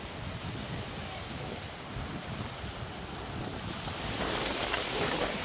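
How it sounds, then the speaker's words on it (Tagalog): Strong, steady wind gusting outdoors on a farm in open country near a swollen river, a broad continuous roar of buffeting air that swells louder toward the end, with no voices. "Malakas ang hangin ngayon mga ka-idol."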